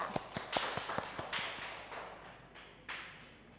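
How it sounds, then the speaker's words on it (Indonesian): Applause from a classroom of students for a classmate, scattered sharp claps at the start that quickly thin into a few uneven, fading claps, fairly close and moderately loud. "Kita kasih aplaus dulu untuk teman kita"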